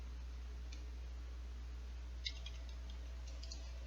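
A single sharp mouse click sounds about midway as Finish is pressed in the Eclipse Java class wizard, close and brief over a low steady hum, with no talking.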